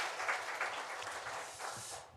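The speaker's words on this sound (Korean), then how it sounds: "우리 하나님께 영광의 박수 올려드리겠습니다." Church congregation applauding at a Sunday worship service, a dense, distant patter of many hands for about two seconds before it quickly fades out.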